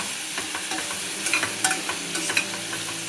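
Pulao is stirred in a sizzling pan, a spoon scraping and clinking against the pan in irregular strokes over a steady frying hiss, close and fairly quiet.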